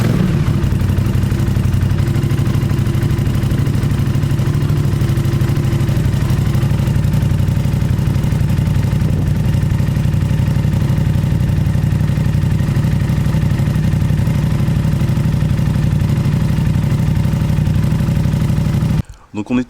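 An Aprilia RS660 with an IXRACE exhaust and no baffle idles after a cold start, a loud, steady, close engine drone with a low throb that continues unbroken before cutting off abruptly at the end.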